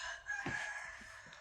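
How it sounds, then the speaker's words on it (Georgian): One of three roosters in a yard crows once, a raspy, drawn-out call that holds steady over a constant background hum, moderately near. "მამალი ყვირის, სამი მამალი ყავს და სამივე ყვირის"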